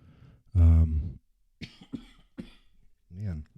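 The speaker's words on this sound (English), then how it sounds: "I gotta get rid of this cough somehow." A man coughs once, loudly and close, then brief throat noises and scattered bits of speech follow.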